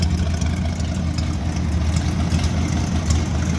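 An old dump truck's engine runs steadily at a fast idle, a loud, constant low rumble with no talk over it.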